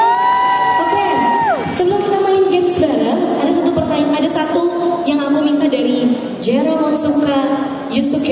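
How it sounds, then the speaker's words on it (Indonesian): Crowd cheering and whooping at a fan meet-and-greet with a performing group, loud and sustained for the whole stretch, with shouted voices and some speech mixed into the roar. "Tepuk tangan sekali lagi buat Waseda Boys"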